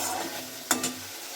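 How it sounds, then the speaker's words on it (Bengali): Kashmiri chili powder masala sautéing in hot oil in a pan: a steady soft sizzle with a couple of quick scraping stirs of a spoon standing out near the middle. "দেখো বন্ধুরা, তেল যতক্ষণ ছাড়ছে না ততক্ষণ একটু ভালো করে কষিয়ে নেওয়া হচ্ছে।"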